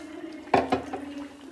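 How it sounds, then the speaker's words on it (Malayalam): Ground coconut and turmeric paste drops into a simmering sardine curry with a wet splat, then two or three softer plops and stirring sounds follow over a low, steady background hum. "ആ അരപ്പ് നമുക്കിതിലേക്ക് ചേർത്ത് കൊടുക്കാം"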